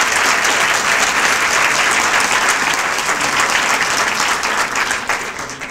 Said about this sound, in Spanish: recibirán un fuerte aplauso para todos ustedes